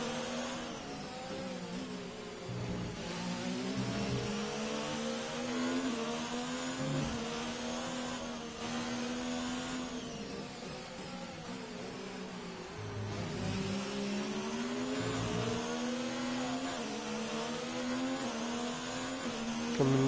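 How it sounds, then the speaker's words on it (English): An F2 race car in a racing video game, its engine a steady high droning whine that dips and rises as the driver lifts off and gets back on the throttle, close and continuous with no voices. "As he gets a little loose, you hear him get out of the throttle."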